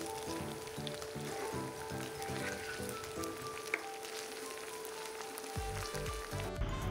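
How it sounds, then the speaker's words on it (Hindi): Ginger garlic paste frying with onions in a pan for a simple Indian chicken curry gives a steady, close sizzle that continues throughout, with faint tonal music-like sounds beneath and no talking. "तकरीबन 2 से 3 मिनट तक हमें जिंजर गार्लिक पेस्ट अच्छे से भून लेना है"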